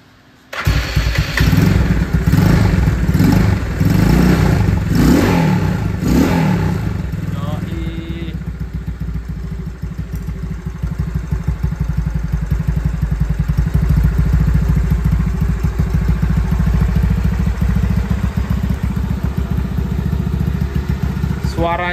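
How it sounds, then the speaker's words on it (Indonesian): A Yamaha Mio motorcycle with an aftermarket exhaust starts with a clatter, revs sharply several times, then settles into a deep, steady idle, loud and close. "Kita cek sound nih suaranya."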